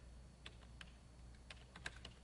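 Someone typing a web address into a browser bar on a computer keyboard: a sparse run of light key clicks, quiet and somewhat distant, with a low steady background hum.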